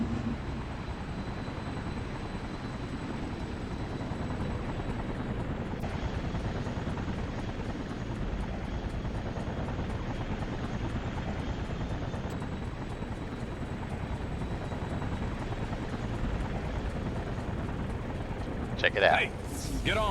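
A helicopter in the InFamous video game thrums steadily with a continuous low rotor drone throughout, and a brief burst of other game sound near the end.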